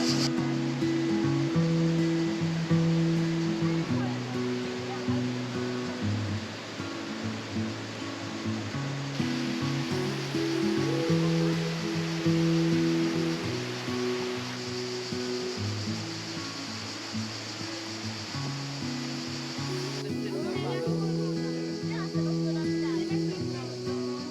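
Skradinski Buk waterfall in Krka National Park, Croatia, roars as a steady, full broadband wash of falling water, with narration and music layered over it throughout.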